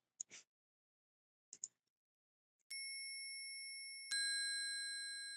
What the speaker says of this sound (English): there's another bell melody chime